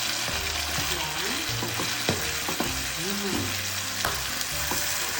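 Tomatoes and chili go into a hot pan with garlic, frying with a steady close-up sizzle while a spoon stirs and scrapes in short strokes, and a few low voices murmur faintly underneath.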